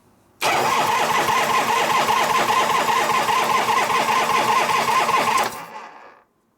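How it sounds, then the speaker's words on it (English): Starter cranking on a rebuilt 1972 Harley-Davidson FLH 98ci shovelhead stroker motor, a loud, fast, even churning that runs for about five seconds, then cuts off abruptly, heard up close. "The starter works now."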